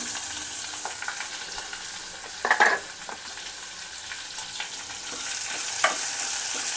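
Curry leaves and onion fry in a pan for a raw banana dish, giving a continuous close sizzle with occasional utensil scrapes and a brief louder stir burst.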